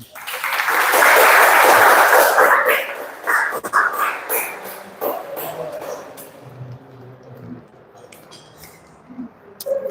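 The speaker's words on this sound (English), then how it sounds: "Just give him a round of applause, please." Workshop audience at a communication skills session breaks into loud applause that peaks in the first few seconds, then thins into scattered claps and murmuring voices with occasional louder bursts.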